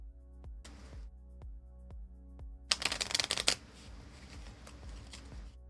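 Shuffling a thick deck of board game cards, a loud dense riffle burst in the middle, with light card taps and handling before and after, close up and alone.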